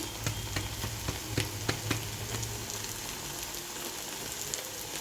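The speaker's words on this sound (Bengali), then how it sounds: "এবার আদা রসুন বাটাটা দিয়ে ভালো করে আগে ভেজে" Ginger garlic paste fries in hot oil for a fish chorchori, giving a steady crackling sizzle with a few sharper pops early on that settle into continuous hissing.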